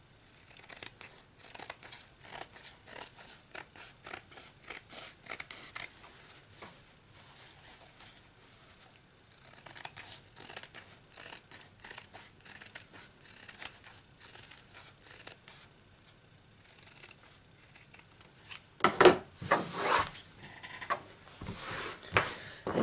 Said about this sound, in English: I'm simply going to trim away some of the bulk, trimming away some of my fabric